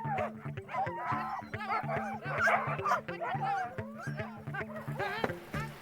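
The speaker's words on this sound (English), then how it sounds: "We're off on a 6-dog-powered sled with one puppy in hot pursuit." A team of six sled dogs and a puppy barking and yipping excitedly in a continuous, overlapping chorus, close and loud, with whimpers mixed in and a voice briefly audible.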